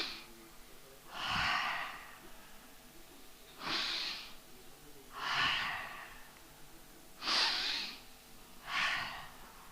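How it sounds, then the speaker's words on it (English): Five slow breaths taken in through the nose and let out through the mouth during a seniors' breathing exercise, each a soft, close airy rush of a second or so, spaced a couple of seconds apart over quiet room tone. "Now we breathe from the nose 3 times,"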